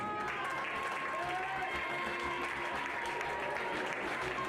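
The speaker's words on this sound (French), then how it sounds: "Musique et applaudissements." Steady applause from a crowd at a pony show jumping podium ceremony, with music faintly underneath, continuous and fairly distant throughout.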